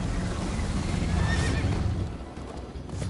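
A horse in Minecraft Story Mode gives a loud neigh over busy game background noise and rustling, the whinny rising briefly midway before fading.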